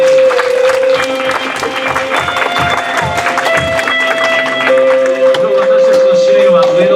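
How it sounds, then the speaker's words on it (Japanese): Worship service audience applauding thanks for the interpreter, steady loud clapping with sustained music tones and voices running underneath throughout. "本当に拍手したいと思います"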